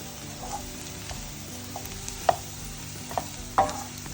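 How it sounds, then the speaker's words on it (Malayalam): Chili powder roasting in a pan for onion chutney, a steady close sizzle with occasional stirring scrapes and light clinks against the pan. "ഇനി ഇത് നല്ലോണം ഒന്ന് റോസ്റ്റാണ്"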